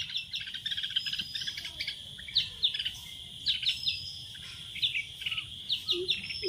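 Red-whiskered bulbuls chirping in repeated short, bright bursts, fairly close and clear over a faint low background hum, with no talking.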